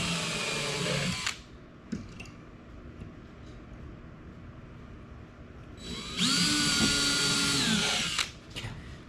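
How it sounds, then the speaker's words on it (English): A power drill whirs in two bursts, the first cutting out abruptly after about a second and the second running steady for a couple of seconds before stopping, with quiet room noise between, during a lodge floor build. "You start drilling and it's fine, and then it like cuts out like that."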